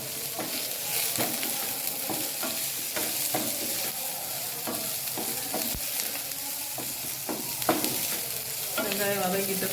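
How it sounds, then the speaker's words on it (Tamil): Ginger garlic paste sautéing with onions in a pan, a steady sizzle broken by repeated scraping stirs of a spoon against the metal, close and continuous with no talk. "இஞ்சி பூண்டு விழுது சேர்த்துட்டோம். அதையும் போட்டு நம்ம வதக்க போறோம்."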